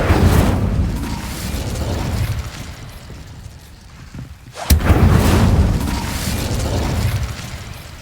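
Incendio fire spell cast in the video game Hogwarts Legacy, a sharp burst near the middle that flares into a loud fiery whoosh over a steady game ambience.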